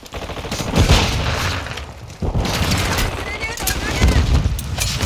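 Call of Duty Modern Warfare 2 Team Deathmatch on the Shipment map: loud, near-continuous automatic gunfire rattles on, punctuated by heavy booms from a grenade blast, with the low rumble swelling and easing in waves.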